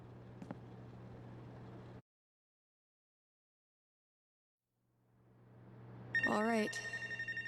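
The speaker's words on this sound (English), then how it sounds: "Phone's ringing." A telephone rings in the video game Life Is Strange: True Colors, a bright electronic ringtone with steady repeating pulses that starts loud after a stretch of silence, over a low ambient hum.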